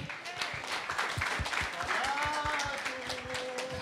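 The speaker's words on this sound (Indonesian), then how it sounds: "Tepuk tangannya boleh." A stand-up comedy show audience claps steadily throughout while a host's voice talks over it. The applause stays moderate and fairly distant.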